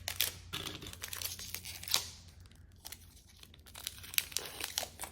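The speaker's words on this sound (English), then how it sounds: "I feel like these booster packs are a lot easier to actually open." A trading card booster pack wrapper is torn and crinkled open at close range, sharp foil crackles and rips in irregular bursts over several seconds, fairly quiet overall.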